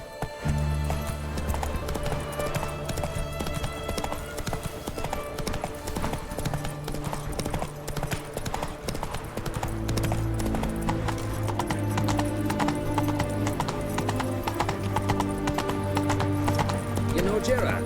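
Roach, Geralt's horse in The Witcher 3, gallops with steady rhythmic clip-clop hoofbeats and a brief whinny, set under game music and a voice talking throughout.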